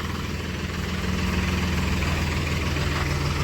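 A tractor engine idling nearby, a steady low rumbling chug with no voices.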